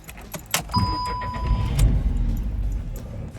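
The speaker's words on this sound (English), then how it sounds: "let's get the car started up" Car engine starting inside the vehicle: a chime tone and clicks, then the starter cranks and the engine catches into a steady close idle rumble.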